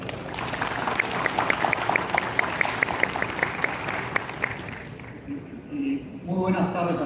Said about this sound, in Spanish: Lo recibimos con unas fuertes palmas.